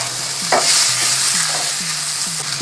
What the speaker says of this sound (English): Onion, garlic, chilies. Give that a little saute.